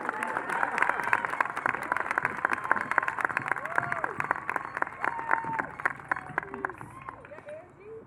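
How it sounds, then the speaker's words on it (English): Crowd applause for the valedictorian at a high school commencement ceremony, many hands clapping in a steady patter with scattered cheers and babbling voices mixed in, gradually tapering toward the end. "So clap for her, please."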